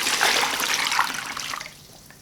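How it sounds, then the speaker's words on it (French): Lukewarm water pours into a basin as a bright, rushing splash that is loud at first, then thins and fades over about two seconds. "Nous allons commencer par mettre de l'eau tiède dans une bassine."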